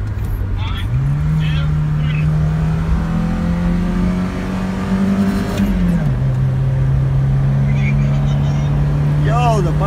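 1980 Volvo 240 and 1982 Mercedes 300 Turbo diesel racing, a continuous loud engine drone rising in pitch as it accelerates, then settling at a steady cruise, with wind rush and some voices.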